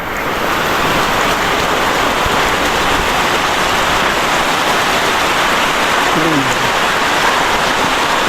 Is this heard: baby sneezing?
no